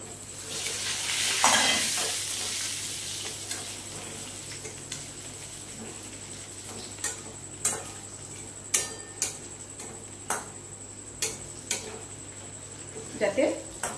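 Fried potatoes stirred into frying masala for alu dum in a home kitchen, with a faint sizzle and a run of soft, regular scraping clicks from the spoon against the pan, fairly close.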